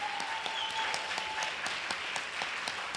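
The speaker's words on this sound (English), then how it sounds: "Let's give another big, huge round of applause for all of our 54 finalists tonight." An audience at a neighborhood poster contest award ceremony gives a sustained round of applause for the finalists, dense steady clapping from a sizable crowd with a few sharper individual claps standing out.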